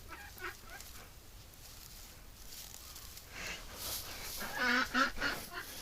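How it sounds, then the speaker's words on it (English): Ducks and geese, including Muscovy ducks, honk and call in a pen, faint at first and then growing into a cluster of louder nearby honks toward the end. "we got a bunch of ducks in here"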